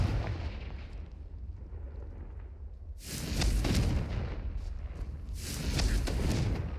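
A Confringo explosion spell goes off in Hogwarts Legacy as two loud, broad booming bursts, the first striking at about three seconds and the second near six, each rolling on over a rumbling game backdrop.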